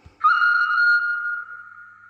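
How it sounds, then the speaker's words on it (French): A single sustained whistle from a sound-equipped model of a 150 P steam locomotive, a clear steady high tone that sounds for about two seconds and fades slightly toward the end. "Alors, nous avons un sifflet"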